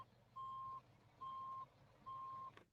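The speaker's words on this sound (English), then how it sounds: "the driver of the bus turned on his rear tail lights and began to attempt to back into us" Three evenly spaced reversing beeps from a bus backing up, each a steady tone lasting about half a second, sounding clearly over quiet low background rumble, followed by a brief thump at the end.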